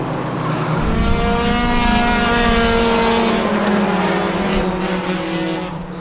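Race cars tearing around a short oval track in a Thursday Thunder series race, engines roaring loud and steady with a slowly shifting, sustained drone for the whole stretch.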